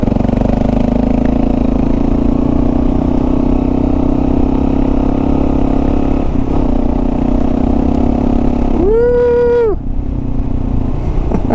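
A motorcycle on Tusk tires rides over gravel on a mushy, soft trail, its engine a loud, steady drone from start to finish, with a short rising whine near the end.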